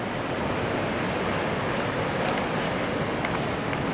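Waves on the beach at Da Nang, a constant broad wash of surf and wind noise filling the whole stretch, steady and even with no clear breaks and no voices.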